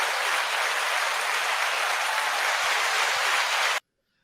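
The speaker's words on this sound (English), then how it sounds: "So give a round of applause for this young gentleman." A studio audience gives a round of applause on a New Year's episode of a talk show, dense steady clapping close and loud for nearly four seconds before it cuts off abruptly into silence.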